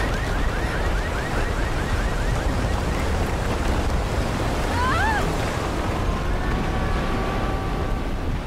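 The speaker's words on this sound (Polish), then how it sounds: "Niesamowicie mocna fala" Strong ocean surf crashes in a Shadow of the Tomb Raider game scene, a steady, dense roar of rushing water and wind with faint whistling tones on top and no speech.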